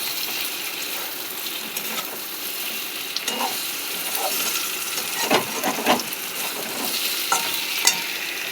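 Food fries in a pan under steady sizzling while a utensil stirs it with intermittent scraping knocks, close and continuous throughout.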